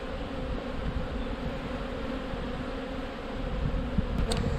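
Honeybees hum in a steady, dense drone around a hive during the introduction of a new queen, a close, continuous buzzing with slight swells and no voices.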